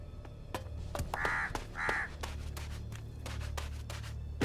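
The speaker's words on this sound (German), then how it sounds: "Halt die Klappe, du verdammter Rabe." A raven in the game ELEX gives two hoarse caws about a second apart, close and clear over a continuous scratchy, clicking background.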